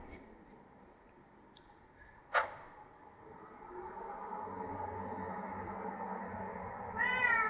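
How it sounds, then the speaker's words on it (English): House cat meowing indoors, with one sharp high cry and later a short wavering meow, set against a low steady rumble and faint background noise. "That's your cat."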